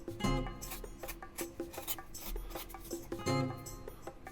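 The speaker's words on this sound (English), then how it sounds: "Switching between some gouges and my knife, I'm able to better establish the nose and eye sockets." Wood spirit face being carved with gouges and a knife, with repeated short scraping and rasping cuts in uneven bursts, close up, with no talk.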